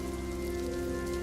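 Steady, dense rain pours on a surface in an unbroken hiss, close and even throughout, with no voices.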